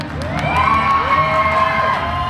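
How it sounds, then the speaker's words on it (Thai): Audience cheering and applauding at the Miss Thailand World 2023 final show crowning, a loud sustained crowd roar with high whoops and shouts rising over it. "ขอเสียงปรบมือเป็นกำลังใจให้กับสองท่านอีกครั้งนึงครับ"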